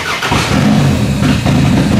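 A demolition derby car's engine catching and then revving hard, a loud, close, rough roar that holds steady with slight surges and no talk over it.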